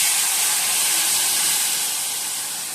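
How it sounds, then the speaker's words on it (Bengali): Mustard paste dropped into hot oil tempered with black cumin in a home kitchen, a loud, even sizzling hiss that holds steady and then eases slightly toward the end, with no voices. "কালো জিরে ফোড়ন দিয়ে দিয়েছি তেলে, আর সর্ষে বাটাটা দিয়ে দিচ্ছি"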